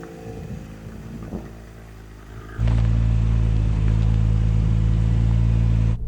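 A BMW X3 M or Porsche Macan GTS engine driving off-road, starting as a moderate rumble and then jumping abruptly to a loud, sustained, close droning roar that holds steady to the end.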